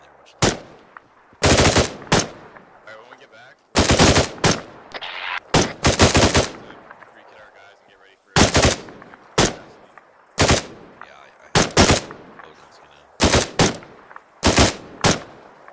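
Arma 3 gunfire rings out in loud, close bursts of automatic fire, clusters of sharp cracks separated by short pauses, repeating across the stretch with faint background noise between volleys.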